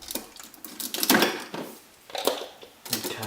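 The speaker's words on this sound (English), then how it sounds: "Just get my knife to just cut it." A knife cuts open the cardboard and tape packaging of a Kogan 46L bar fridge, giving several close scratchy slicing and tearing bursts with short pauses between them.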